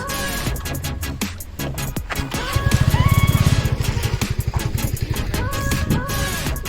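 A motorcycle is parked at Panhala fort, its engine chugging in a close, rapid pulsing rhythm that swells and then eases, with people talking around it.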